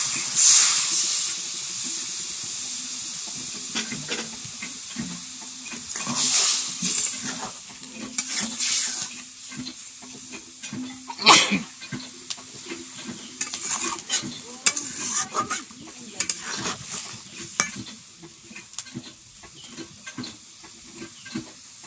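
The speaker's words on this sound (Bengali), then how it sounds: "ভালো করে নাড়িয়ে নিয়ে আর একটু জল দিয়ে" Pointed gourd curry is stirred in a pan after a splash of water, scraping spoon strokes and bursts of hissing sizzle and steam recurring unevenly over a soft ongoing simmer.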